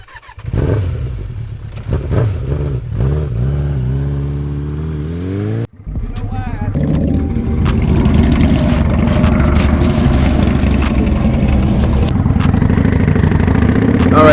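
A motorcycle starts up with a few short revs, cuts out briefly, then settles into a loud, steady running engine drone heard close up for the rest of the stretch, no talk.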